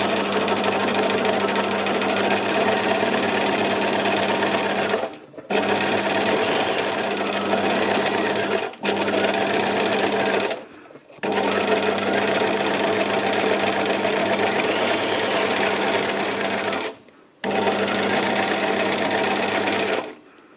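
Sewing machine stitching a fabric landscape piece, a loud steady mechanical whir in several long bursts separated by short pauses, with no talk.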